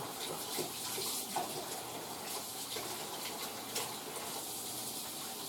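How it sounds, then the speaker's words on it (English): A kitchen tap runs steadily during handwashing, a soft, continuous hiss of flowing water with small splashes, heard alone at low volume. "Now I need to wash my hands."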